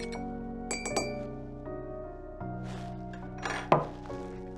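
A spoon clinks against a cup while stirring a peppermint mocha café au lait with milk, giving several bright, close taps spread over a few seconds, with no talking.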